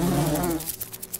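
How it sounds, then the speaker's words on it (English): Wasps buzz in a battle in the Lords of Xulima video game, a loud droning hum that fades after half a second into softer, fluttering insect buzzing with no talk over it. "Sure, we'll fight some wasps."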